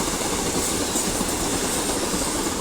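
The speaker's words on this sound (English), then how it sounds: "The next train to be passing through will be a pairing of Class 150s running from Manchester Piccadilly to Buxton" A pair of Class 150 diesel trains passing through Ardwick on the Manchester Piccadilly to Buxton line, a loud continuous rumble and rattle of wheels on rails, close by and steady throughout.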